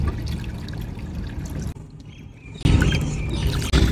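Water is poured to fill a container at a pigeon enclosure. A steady, close splashing trickle runs, briefly drops away, then resumes louder, with faint bird chirps in the background.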